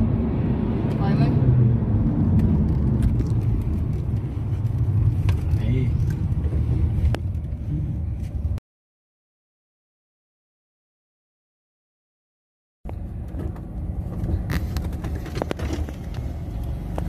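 A car driving on a road during a tense overtaking incident, its steady engine and road rumble loud and close, with voices talking over it; the sound cuts to silence for about four seconds midway, then resumes.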